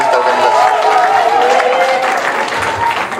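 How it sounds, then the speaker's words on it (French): An audience at a humanitarian conference in Côte d'Ivoire applauds for about three seconds, a dense steady wash of clapping that tapers slightly at the end. "On va applaudir Marie-Élise Niaoré"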